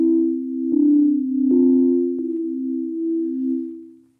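Superwave synth chords from an Arturia MicroFreak in paraphonic mode ring out in smooth sustained tones, shifting to new chords every second or so, clean and alone.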